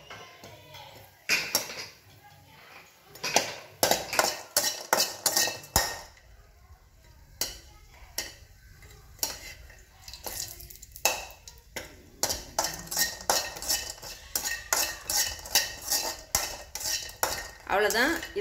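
Asafoetida dry roasting in a pan for sambar powder, a metal spoon scraping and clinking against the pan in a busy, irregular run of sharp taps and scrapes, close and fairly loud.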